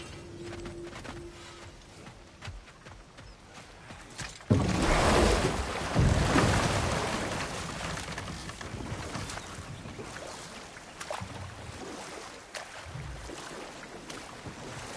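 A waterfall rushes in the Valhalla mode of the game God of War Ragnarok, a broad continuous roar that swells loudly partway through and then settles into a steady wash amid other game sounds.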